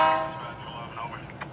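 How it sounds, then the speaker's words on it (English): A DCC-equipped model train Genesis locomotive plays its startup sound, a brief rising mechanical whir and horn-like tone that fades into a low idling rumble. "That's the startup sound for our Genesis."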